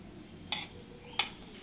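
Aloo poha ingredients, grated fresh coconut among them, are stirred in a pan, giving two brief scraping clinks of a utensil against the pan over a faint background.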